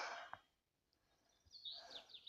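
Faint birds chirp and twitter outdoors in a forest, a few short calls at first and then a livelier burst of high song toward the end, with quiet surroundings.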